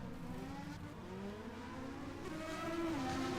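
Formula race cars on a circuit during pre-season testing, their engines droning steadily at a distance and rising in pitch as one car overtakes another, heard alone without talk.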